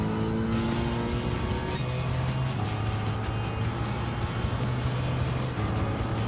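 A race car's engine drones steadily during a video game race and a nitrous boost comes through as a faint hiss, with pitch shifting as the car accelerates and no talk.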